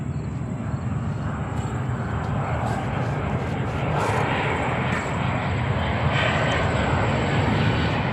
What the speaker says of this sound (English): we will stay with the Saudi 777 for takeoff